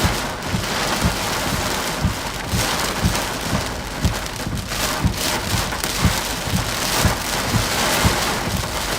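Heavy rain with some hail pours down steadily during a thunderstorm on a storm chase as wind picks up, a loud, dense hiss broken by frequent close, irregular thumps of stones striking nearby surfaces.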